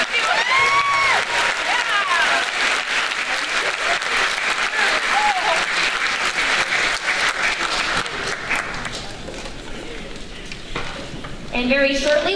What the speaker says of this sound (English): One more round of applause for Symphonic Orchestra.